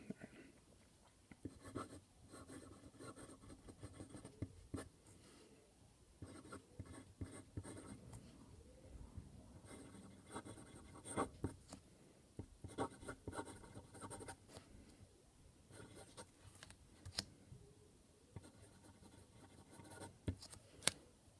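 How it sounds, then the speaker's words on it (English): A 14K-nibbed Platinum 3776 Century Black Diamond fountain pen writes and crosshatches on paper, giving a steady, faint scratchy rasp of nib strokes with brief pauses between lines, heard alone without talk. "I'll be quiet during this so you can hear the nib"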